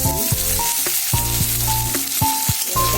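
Ginger, garlic, tomato and green chillies fry in a pan with a steady close sizzle, broken by a few brief clinks and stirring knocks, with no talk.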